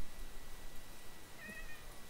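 A cat in a hardcore-mode video game gives one short, faint meow partway through, over a constant background hiss and with no voices.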